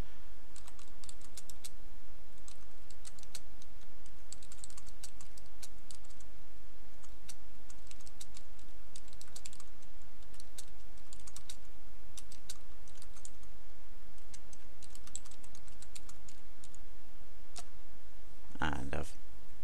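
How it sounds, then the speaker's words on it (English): Steady clicking of someone typing on a computer keyboard while entering text for a website, a fairly continuous patter of keystrokes with brief pauses, close and moderately loud. "type whatever you want"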